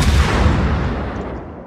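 Heavy concentrated artillery fire on a target in a video game, a loud, dense rumbling barrage that fades slowly over under two seconds with no distinct separate shots.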